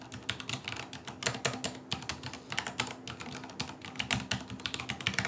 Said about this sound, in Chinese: 我们先来听听按键的声音